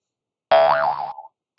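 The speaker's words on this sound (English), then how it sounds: "That was the sound of me executing a trade." A trading platform plays its trade-execution notification, a short bright synthetic boing with a wobbling pitch that fades quickly, standing alone against silence.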